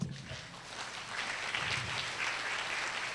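Sustained applause from a standing audience at a presentation on government housing, EC and HDB resale, a steady wash of many hands clapping that swells slightly midway and holds without voices.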